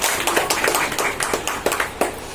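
An audience at a women's health program claps in a brisk, uneven patter of distinct hand claps that continues throughout.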